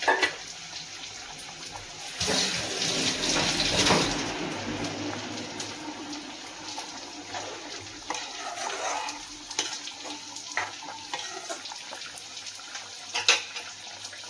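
Dissolved tamarind water pouring into a brinjal and green pea curry, a close splashing gush that peaks early then settles into softer trickles and stirring clinks, with no speech.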